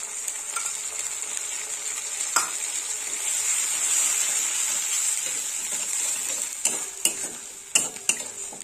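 Onion fries in oil in a pan for Bengali rohu fish kalia, giving a continuous hiss with a bright sizzle, while a spoon stirs and scrapes against the pan in several sharp clicks.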